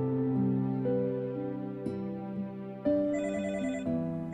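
A telephone rings indoors with a steady, repeating electronic tone that shifts pitch a few times, close and moderately loud, with no talking.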